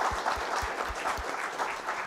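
A church congregation at a Sunday service applauds and cheers for the volunteers, with steady clapping and a low thump pulsing underneath.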